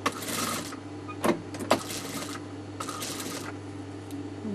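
A sewing machine stitches piping onto a neckline in short bursts of rapid mechanical whirring, broken by pauses, a couple of sharp clicks and a low steady motor hum.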